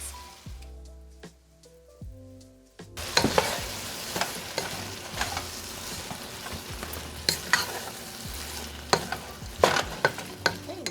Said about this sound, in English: Just going to let that saute for about 4 to 5 minutes.